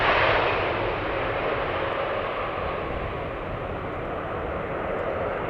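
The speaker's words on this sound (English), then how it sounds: "I always forget to zoom out when those Dreamliners pass by" A Boeing 787 Dreamliner departs Amsterdam Schiphol Airport with a loud, broad jet-engine roar that stays steady and eases very slightly as the aircraft passes, with no voices.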